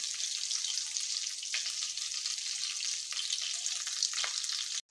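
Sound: garlic frying in a pan

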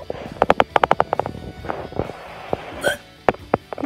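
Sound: hiccups

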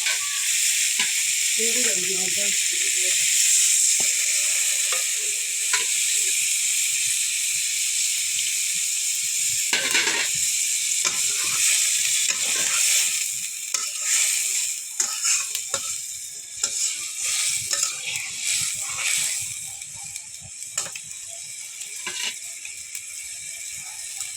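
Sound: liquid added to mola fish frying in pan, sizzling

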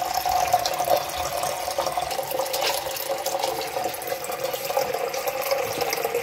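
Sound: water running from outdoor tap to fill dogs' water

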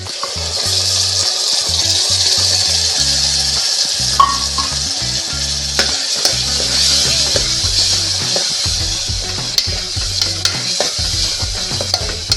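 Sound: ground paste frying in a pan for aloo matar curry

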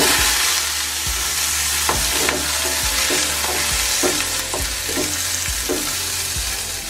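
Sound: small onions sautéing in sesame oil

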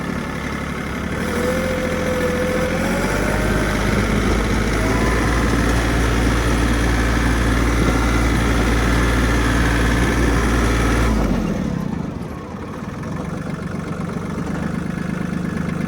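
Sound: Mitsubishi MTR-300 mini tractor engine running

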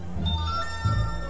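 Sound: phone SMS notification sound

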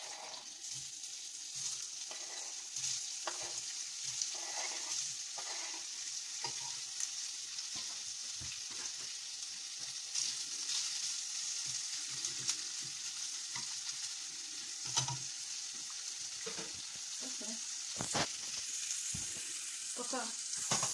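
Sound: sausages frying in oil

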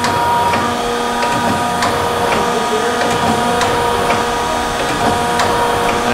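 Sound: Denison hydraulic C-frame press with rotary indexer running

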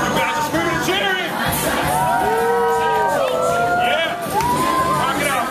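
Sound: crowd of fans screaming and cheering at meet and greet

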